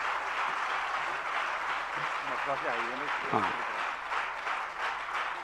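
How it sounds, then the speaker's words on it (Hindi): Audience applause at a Jain religious discourse: dense, continuous clapping from a large crowd across the whole stretch, with a short spoken interjection partway through. "जरा तालियां बजा दीजिएगा आप सब लोग"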